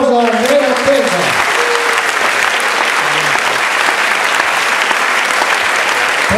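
A concert audience at the 2019 San Bartolomeo band concert breaks into loud, sustained applause that fills the space evenly, with a brief voice at the very start.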